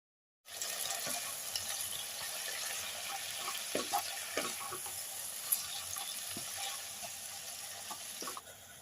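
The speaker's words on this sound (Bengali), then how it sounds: "এবার এতে 2টো মাঝারি সাইজের পেঁয়াজ কুচো দিয়ে দেবো।" Chopped onions with Kashmiri chilli powder and salt fry in a pan for a chicken butter masala, a soft continuous sizzle with occasional clicks from stirring, faint and close.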